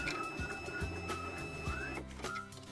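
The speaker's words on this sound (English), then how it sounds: "hold the upward Move Card button while pressing the cleaning card onto the rear roller for 15 to 20 seconds" A Magicard Rio Pro card printer runs its rear roller against a cleaning card, making a continuous mechanical whir with thin whining tones and a few soft clicks. The sound is fairly quiet and steady.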